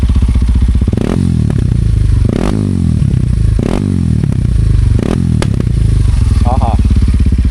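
A modified Kawasaki KLX 230 dirt bike's aftermarket exhaust blats loudly up close, revving in repeated sharp bursts over a rough, throbbing idle, with a crackle between throttle blips.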